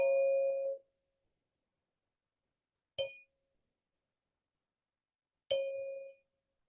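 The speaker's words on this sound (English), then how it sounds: "And we'll close with the sound of the bell." A bell rings three times, widely spaced: a clear ringing tone to start, then two sharp struck chimes that ring out briefly into silence.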